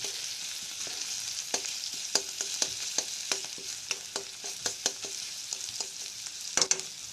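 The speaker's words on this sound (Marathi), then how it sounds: "थोडंसं कांदा चांगला फ्राय जाऊ दे" Onion frying in a pan gives a steady close sizzle with repeated sharp crackles and pops and a few louder bursts near the end. No one speaks.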